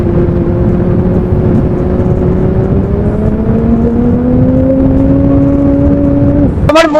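A voice mimics a superbike engine with a steady, buzzing drone that climbs slowly in pitch for about six seconds before cutting off abruptly.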